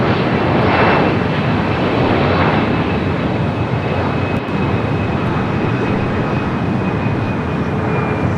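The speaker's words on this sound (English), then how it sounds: "Delta coming in from Honolulu, the 767" A Delta Boeing 767 arriving at LAX from Honolulu, heard as a steady loud jet roar that holds for several seconds with no voices.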